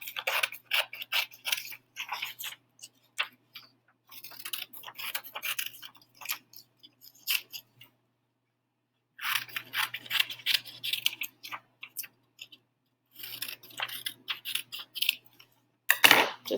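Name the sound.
scissors cutting around a paper page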